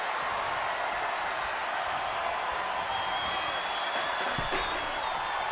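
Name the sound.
wrestling fans cheering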